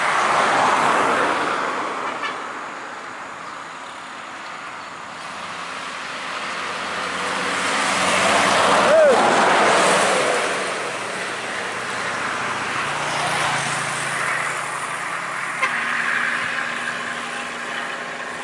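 Two Eva Star and MPM buses race along an Indonesian road, their engines and tyre roar building into a broad swell around the middle of the stretch before easing off, with steady road noise throughout and no talk.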